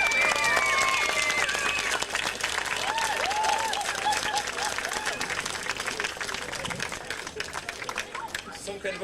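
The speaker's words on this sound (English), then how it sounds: "Can you give yourselves a round of applause?" A pageant audience in Carriganass applauds themselves, dense continuous clapping filling the hall for several seconds with voices and chatter mixed in underneath.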